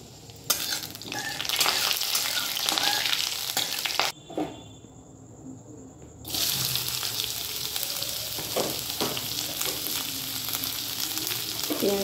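Onion frying in hot oil in a kadai, a loud continuous sizzle with stirring scrapes, briefly cut off in the middle before the crackling resumes and carries on steadily.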